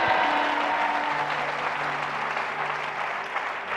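A church congregation at a French-language worship service bursts into sustained applause with cheering, the dense clapping filling the space steadily throughout with a few voices and tones mixed in.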